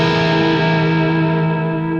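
A single sustained electric guitar chord with a dreamy Lydian voicing rings through effects, its tones held evenly and loud with a smooth, shimmering decay.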